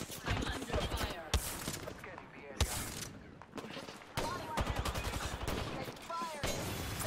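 Apex Legends gunfight: dense bursts of rapid gunfire and impacts fill the stretch almost continuously, with a few sharper cracks standing out amid the busy combat mix.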